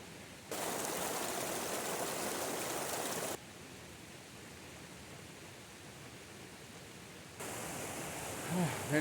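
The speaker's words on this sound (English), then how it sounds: "Made it past the creek." A creek flows as a steady broadband rush on a forest hiking trail, starting and stopping abruptly and returning near the end, fairly faint and distant.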